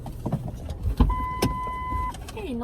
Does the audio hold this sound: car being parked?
yes